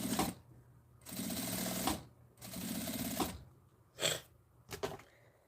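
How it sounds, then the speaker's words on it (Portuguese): Sewing machine stitching the printed fabric to the lining of a small zipper bag, running in several bursts of steady mechanical whirring separated by short pauses, close and fairly quiet with no talk. "coloco estampa de frente com estampa e passo outra costura aqui"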